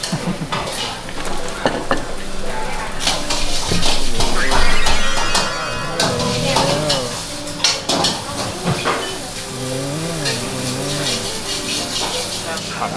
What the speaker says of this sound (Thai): นี่คือเตาวอกนี่คือเตาวอกนะครับ